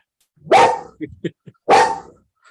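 A puppy barks twice, two loud close yaps separated by a few soft snuffly yips and whimpers, with no talk over them.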